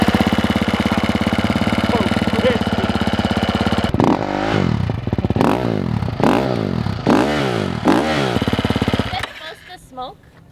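A four-stroke hard enduro motorcycle engine runs steadily for several seconds and then shifts into a rough, pulsing rhythm of repeated throbs before trailing off near the end.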